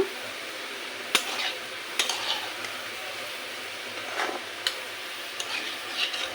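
Cauliflower fry sizzles steadily in a frying pan on a home stove, broken by occasional sharp clinks and scrapes as a utensil stirs it close by, with no talking.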